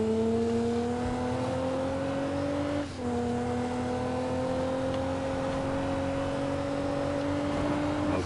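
A BMW engine in the Need For Speed video game revs in a steady, climbing drone, briefly dropping at a gear shift before rising again, with no talk.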